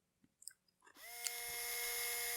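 A drill spins up after a few small clicks and chewing-like noises, then holds a steady, high, whining drone that stays loud and close to the end.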